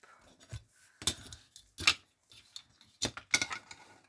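Scissors make a string of sharp, close snips in uneven bursts, about five distinct cuts separated by short quiet gaps, with no talking.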